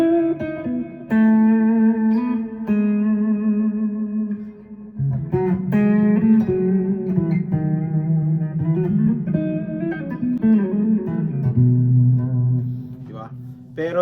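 Guitar strung with new GHS Boomers gauge 11 strings, played as a sustained melodic line with ringing notes and shifting chords, close and fairly loud.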